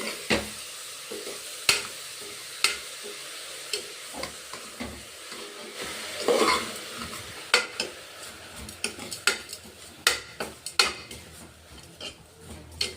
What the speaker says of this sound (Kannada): ಎಲ್ಲ ಚೆನ್ನಾಗಿ ಮಿಕ್ಸ್ ಮಾಡ್ಕೊಳ್ಳೋಣ ಒಂದ್ಸರಿ